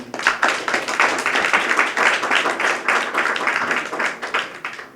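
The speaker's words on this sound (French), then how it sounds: "Je vous prie de les applaudir, s'il vous plaît." An audience at a ceremony for the reopening of the Chancerelles hospital, attended by Haiti's health minister, applauds in a dense, sustained round of clapping that stays loud and even from start to finish.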